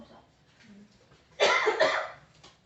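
A person coughs with two harsh, close bursts in quick succession midway, after quiet murmuring and soft background voices.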